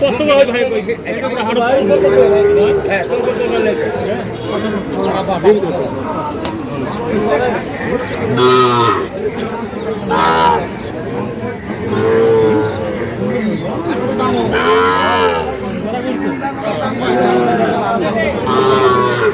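Fattened Sahiwal bulls and calves mooing at a busy livestock market, loud repeated lows over constant crowd chatter and nearby talking.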